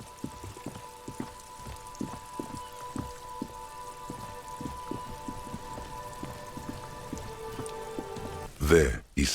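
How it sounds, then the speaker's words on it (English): Rain falling in the video game Disco Elysium: steady patter of drops with regular soft taps over a faint hum, ending in a brief loud rustling burst. "It's raining again."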